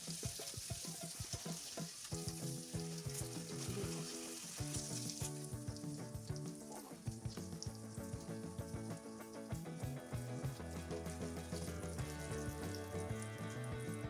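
Fried eggs sizzle in a pan with a soft, continuous crackle, faint and even, over a quiet tonal background.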